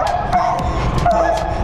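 A small dog yaps and whimpers in short repeated bursts close by, set against a steady background hum with no clear talk.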